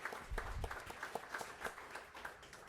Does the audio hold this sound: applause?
yes